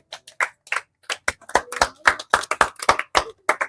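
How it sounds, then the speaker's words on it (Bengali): Quick bursts of applause from a game show audience, uneven and choppy claps rising and falling through the moment. "জোরে করে একটা হাততালি হবে"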